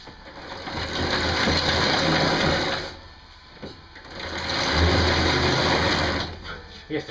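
A small motor in a solar-powered model dozer drives gears and sprockets, a whirring mechanical grind that runs in two long bursts separated by a brief pause, close and fairly loud.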